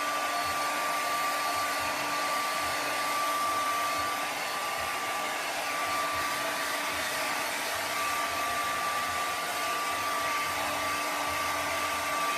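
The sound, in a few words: hair dryer used on an acrylic painting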